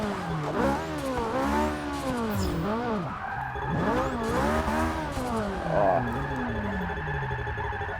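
A wheelie drift car in a racing video game revs repeatedly, its engine note rising and falling in swooping cycles over continuous tire squeal, loud and close throughout.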